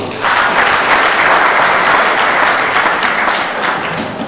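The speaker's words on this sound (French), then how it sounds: "Est-ce que vous pouvez applaudir encore?" Wedding guests break into loud, steady applause, a thick burst of clapping that starts abruptly and holds at full strength before easing slightly at the end.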